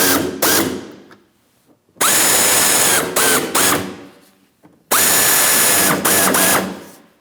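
Ratchet tightening the bumper cover fasteners on a 2007-2014 Ford Edge, heard as three loud, close bursts of rapid mechanical clicking and whirring, each lasting a second or two, separated by brief quiet gaps.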